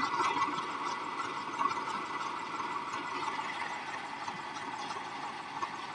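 A 1997 Swaraj 735 FE tractor engine idles steadily at close range during field irrigation, a continuous even rumble with no voices.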